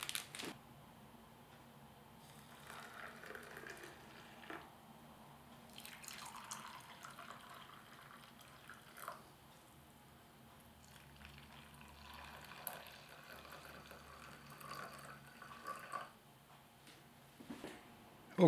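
Hot water pours and drips into a container to make cocoa from a French 24-hour military ration, a soft, steady trickle with small splashes, heard close and faint throughout.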